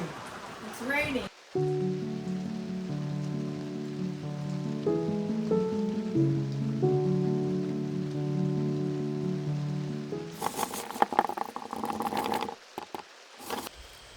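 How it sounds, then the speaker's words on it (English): Rain patters on a surface beside a steady, sustained tonal hum, then swells into a louder burst of broadband splashing near the end. "Raining. It's raining."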